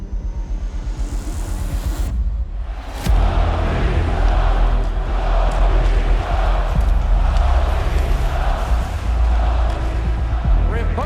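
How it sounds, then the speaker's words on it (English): A rowdy hockey arena crowd at an NHL playoff game on a Saturday night, a loud roaring wash of cheering and noise that swells after a brief lull and carries on steadily throughout. "Rambunctious crowd on a Saturday night."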